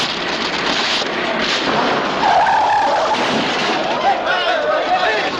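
In a 1939 radio mystery drama, an old jalopy with no brakes skids loudly and roughly as the car slides, set against a dense wash of noise and voices.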